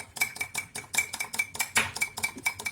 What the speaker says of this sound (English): You have to mix it thoroughly so that it became paste.